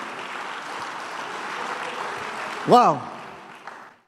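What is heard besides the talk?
congregation applauding in church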